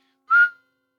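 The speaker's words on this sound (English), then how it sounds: "The sound of a pot's kettle whistles loudly." One short, piercing kettle whistle tone, loud and steady, cutting off after a fraction of a second with silence on either side.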